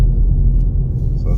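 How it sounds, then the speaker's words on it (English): A car engine hums low and steady while driving on an Irish road, a constant close rumble inside the cabin throughout. "I don't need to make the brum brum noises, the engine's doing that for me."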